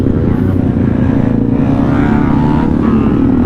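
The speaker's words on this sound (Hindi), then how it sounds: "चारों बाइक्स में एग्जॉस्ट है" Several motorcycles fitted with full-system aftermarket exhausts idle and rev on a group ride, a loud, dense, throbbing low engine drone close by that stays steady throughout.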